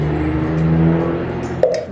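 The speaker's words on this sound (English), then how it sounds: "Very loud truck." A loud truck rumbles past outside, a steady low engine drone swelling and then fading over about two seconds, heard indoors during cold process soap making.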